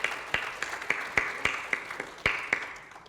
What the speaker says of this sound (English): may I request you to put your hands together to give a round of applause for these beautiful speakers